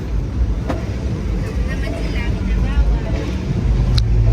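Cool wind buffeting the microphone at Dubai Marina Beach, a loud continuous rumbling roar with gusts throughout.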